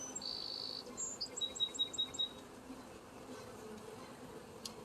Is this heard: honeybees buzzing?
yes